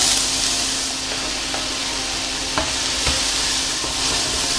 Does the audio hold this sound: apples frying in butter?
yes